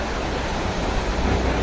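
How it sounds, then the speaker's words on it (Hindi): Floodwater in Monterrey, Mexico pours through flooded streets, making a loud, unbroken rushing wash of broadband noise without any voices. "मेक्सिको के मॉन्टेरी में बाढ़ जैसे हालात, घरों में घुसा पानी, लोगों की मुसीबत बढ़ गई है।"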